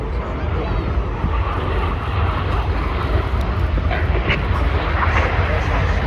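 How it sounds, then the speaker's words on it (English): Red Arrows jets roar past at the 2025 Ayr airshow, flying barrel rolls and hard turns away from each other. A loud, steady, continuous roar lasts throughout, with a commentator talking over it. "each aircraft will perform a barrel roll, they'll pass in the middle"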